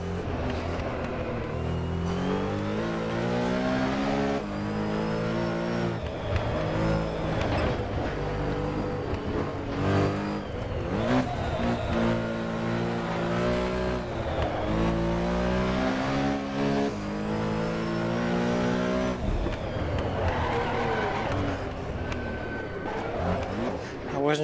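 A GT race car in the Assetto Corsa Competizione sim screams through rising and falling revs for the whole stretch, with steady loud engine harmonics and gear-change dips, while a person talks over it.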